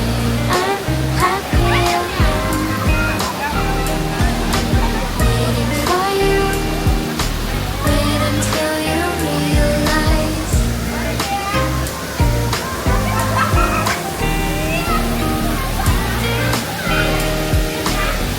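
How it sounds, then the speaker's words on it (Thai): A steady, loud rush of falling water from Wang Muang Waterfall in Nakhon Nayok, Thailand, fills the whole clip, with strong tonal sounds layered over it throughout. "ได้บรรยากาศมากเลยนะครับ น้ำตกวังม่วงจังหวัดนครนายกนะครับ"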